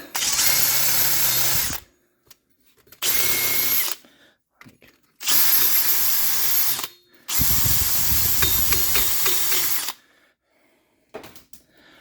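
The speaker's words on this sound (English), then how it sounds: "I hit it with a wire wheel" Power tool spinning a wire wheel to clean a brake hub face on a 2007 Ford Focus, loud close whirring in four bursts of roughly two seconds each, separated by silent pauses.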